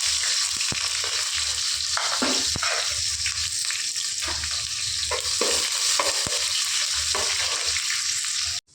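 Onions with garlic and curry leaves sizzle in a pan for an okra dish, a constant close frying hiss broken by repeated scraping stirs and soft clinks, with no talking heard.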